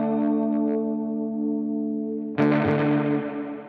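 A Gibson SG Special electric guitar played through an overdrive gain stage: a sustained, buzzing chord rings steadily, then a fresh, loud distorted strum hits near the end and decays with a slight wash of reverb.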